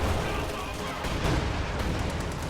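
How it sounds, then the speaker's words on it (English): Anti-tank guns fire in a World War II strategy game, a dense, continuous rumble of booming shots and explosions that fills the short stretch at a steady, loud level, with speech mixed in. "Sherman takes a lot of anti-tank gunfire and is forced to pull back to safety"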